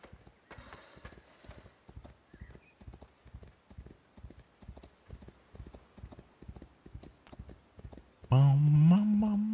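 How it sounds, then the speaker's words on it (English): Horse hooves clip-clop at a steady rhythmic trot in the medieval building game Foundation, continuous and fairly loud, ending with a loud horse whinny. "Oh wow, damn, that's a loud horse."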